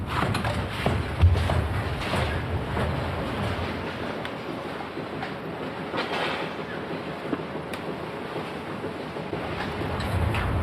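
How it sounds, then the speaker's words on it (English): A shingle bundle wrapping machine runs at the end of the line in a roofing factory, making a continuous loud industrial roar and rumble with scattered clanks and hisses over the whole stretch. "This is the wrapping machine."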